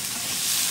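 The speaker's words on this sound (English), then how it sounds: "they're frying up onions" A continuous hissing sizzle of onions frying in a hot pan, steady and close, with no voices.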